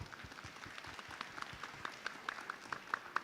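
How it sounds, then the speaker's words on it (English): Audience applause for panel speakers at a business forum on cross-border economic ties, a faint scattering of claps from a modest crowd that gradually becomes more distinct. "let's put our hands together for our panel speakers"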